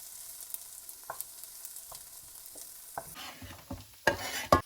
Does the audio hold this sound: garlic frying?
yes